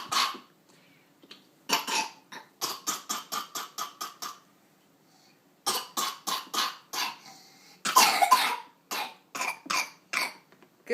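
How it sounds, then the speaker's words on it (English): A person at lunch coughs in long, rapid rhythmic fits, a dozen or more harsh bursts per run, separated by brief quiet gaps, heard close and fairly loud with no talking. "You and that cough."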